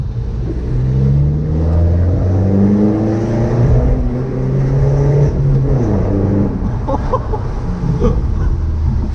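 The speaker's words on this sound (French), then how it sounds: "Oh, le bruit de turbo!" BMW 318d E90 with the M47 diesel engine and a full straight-through exhaust, revving hard up and down in loud, continuous, throaty pulls with turbo whistle and whoosh rising over the engine note, heard up close without talk.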